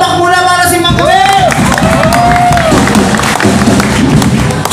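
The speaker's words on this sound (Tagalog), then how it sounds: "Palakpak muna para si Macbe!" An audience at a live comedy show in a Makati restobar applauds, cheers and whoops in a loud, continuous crowd roar, with voices calling out over the clapping.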